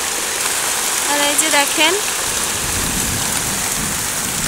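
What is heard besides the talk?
heavy rain with thunder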